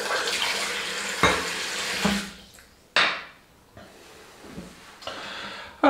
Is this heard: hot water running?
yes